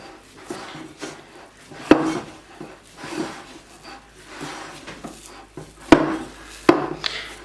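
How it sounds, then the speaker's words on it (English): Sourdough of whole wheat flour scraped and folded by hand during kneading: soft rubbing, dull slaps and scrapes recur in an uneven rhythm at close range, with a few sharper knocks against the work surface. "I'm scraping it, and then I'm kind of folding it, scraping it, folding it, scraping it, folding, and then kind of pressing down in that motion"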